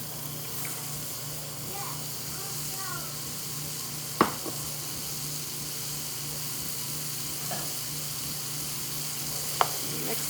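Chopped onion and celery sizzle steadily in a pan for homemade chili, a soft continuous frying hiss with a few sharp utensil clicks and stirring scrapes.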